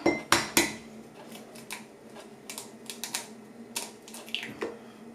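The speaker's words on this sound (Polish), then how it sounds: "O, także wrzucę tutaj dwa jajeczka." Two eggs dropped into a bowl while making homemade blueberry yeast buns produce a couple of crisp knocks up front. A run of lighter clinks and taps follows in a quiet kitchen.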